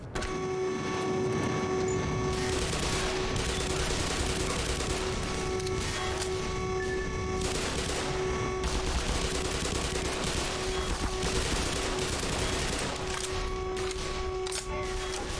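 Enemy gunfire in Black Mesa, a dense, continuous rattle of rapid shots and mechanical clatter that holds steady at a fairly loud level throughout, with a faint tonal hum underneath.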